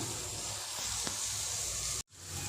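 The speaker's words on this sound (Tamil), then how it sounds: "நல்லா வதங்கி வரட்டும்." Tomato, ginger and garlic sauté in a pan for a Tamil chicken kulambu, giving a steady close sizzle and hiss with a faint stir before a brief cut.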